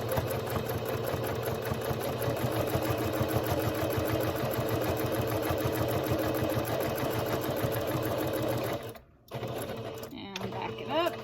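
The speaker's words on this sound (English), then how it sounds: "I'm going to put my pressure foot down right there on the edge and just do a straight stitch all the way across." A sewing machine runs a steady, continuous straight stitch along the edge of a cloth mask, loud and close, then stops briefly near the end before restarting.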